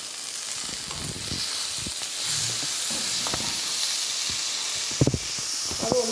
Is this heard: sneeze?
no